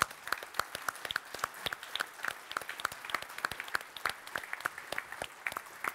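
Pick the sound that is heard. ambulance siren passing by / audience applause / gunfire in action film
audience applause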